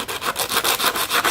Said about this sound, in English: I'm putting it against a sanding block here, or a straight edge